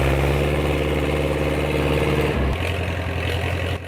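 A Dutra D4K four-wheel-drive tractor from Hungary's Red Star factory, with a six-cylinder diesel of 90 horsepower, runs steadily close by with a deep, loud throb that shifts pitch slightly partway through.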